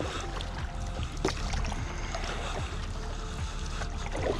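SereneLife paddle board being paddled on open water, with rough, close water sloshing and splashing under a constant wind-like rumble.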